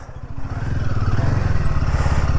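Motorcycle engine riding on the mountain road from Tabo to Kaza in Spiti, on a Himalayan 450, a loud steady throbbing drone with wind rush and clatter, rising slightly as it pulls, no talk.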